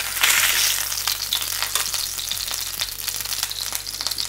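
A thick steak, just flipped, sizzles loudly in a pan with a bright continuous hiss and crackle, close up, with a low steady hum beneath and a few faint spatula knocks.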